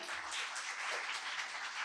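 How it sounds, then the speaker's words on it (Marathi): Students applauding a classmate named Rahul during a school session, a steady wash of hand claps filling the short stretch at moderate, even loudness with no voices on top. "राहुलसाठी एकदा जोरदार टाळ्या"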